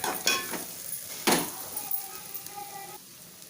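Chicken pieces fry and sizzle in a pan, a steady soft hiss broken by a few sharp scraping stirs and light utensil clinks, moderately close.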